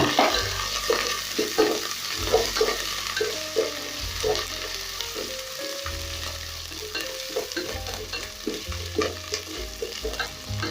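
Ginger and onions frying in a pot for pilau, with a steady sizzle and repeated scraping stirs at close range, moderately loud and without talk.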